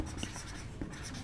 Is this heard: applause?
no